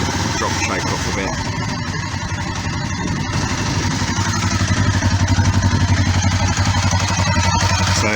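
A Kawasaki motorcycle engine idles steadily with the choke off, a low, even rumble that settles into a regular pulsing beat, with light mechanical clatter on top.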